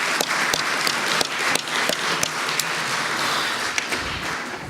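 An audience at a school poetry contest claps in a dense, steady round of applause with sharp individual claps standing out, moderately loud and with no voices over it.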